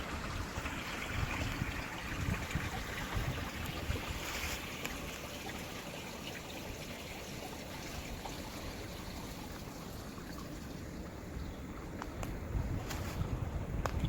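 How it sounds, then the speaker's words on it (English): Underground creek running down in a wooded West Virginia hollow, a constant faint rushing and trickling murmur with no voices. "Underground Creek."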